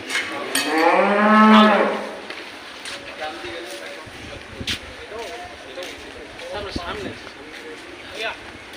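A cow gives one loud, close moo early on, followed by quieter background sounds and a few faint knocks and voices.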